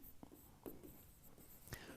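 Pen writing on paper during a physics lesson, faint close scratchy strokes in short bursts, very quiet and alone.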